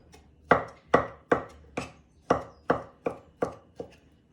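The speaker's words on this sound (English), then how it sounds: "So chop that through." A knife chops through an avocado on a board, about nine crisp, evenly spaced thuds close by, with quiet between strikes and no voices.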